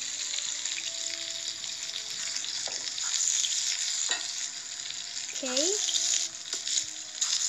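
A hot dog frying in a pan with barbecue sauce, giving a steady broadband sizzle throughout with a few light scraping stir sounds and a brief spoken word.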